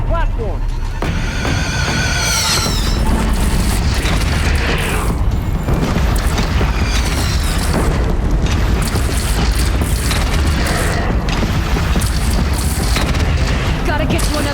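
Cannon fire and booming blasts during a battle in Horizon Zero Dawn, loud and continuous with dense crashes and clatter, while voices shout over the chaos.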